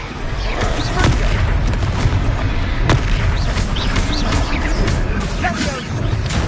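Repeated fire spell blasts from Hogwarts Legacy, a loud booming barrage in the middle of a continuous, dense video game battle mix.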